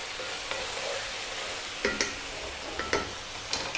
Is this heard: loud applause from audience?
no